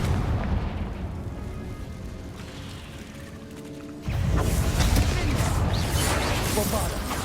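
A Confringo fire spell bursts in Hogwarts Legacy, a sudden loud blast cutting in over a low mechanical game hum and sustaining a dense roaring rumble afterward, with no voice on top.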